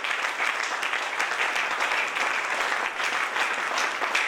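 A church congregation applauding during a women's Christian federation service, dense continuous clapping from many people throughout, fairly loud and even with no talk over it.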